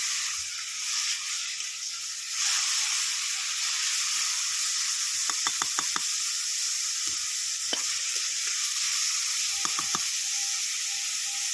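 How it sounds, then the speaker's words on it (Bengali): Tomatoes and green chilies sizzle steadily in a hot pan, a continuous bright hiss, with a few light clicks and scrapes of stirring breaking through near the end. "এবার এটার মধ্যে আমি টমেটো আর কাঁচা লঙ্কাটা দিয়ে দেবো"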